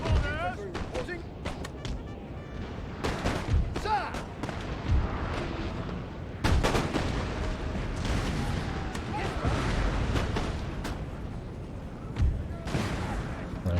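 Booming cannon artillery fire in Napoleon: Total War, repeated heavy blasts and rumbling explosions over a dense battle din, with voices faintly mixed in.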